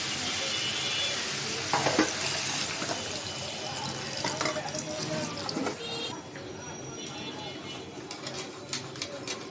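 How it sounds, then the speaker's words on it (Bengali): Chicken and potatoes being stirred and fried in a pot for a curry, with a busy sizzle and repeated scraping and clanking of the spoon against the pot, plus some watery splashing, loud and close. "আলু দিয়ে একটু নাড়াচাড়া দিব, আর একটু কষাই নেব"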